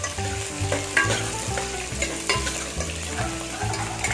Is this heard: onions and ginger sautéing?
yes